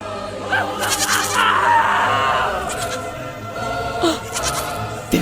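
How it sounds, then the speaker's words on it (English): Goat bleats framed as the ghosts of sacrificed goats, wavering cries rising and falling in several bursts over a low background hum, fairly loud and close with no talk. "They're here. The ghosts of goats slaughtered in ritual sacrifice"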